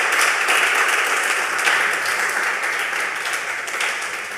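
Audience applause for a youth group at a community event, a dense, steady wash of clapping from a crowd that holds at full strength throughout and tapers only slightly toward the end.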